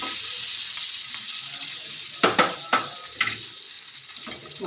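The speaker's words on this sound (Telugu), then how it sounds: "ఇదిగోండి కరివేపాకు, కొత్తిమీర వేసుకొని స్టవ్ ఆరిపోతున్నానండి." Curry leaves and coriander hit a hot tempering, producing a continuous close sizzle with several louder crackling bursts and stirring clatters partway through.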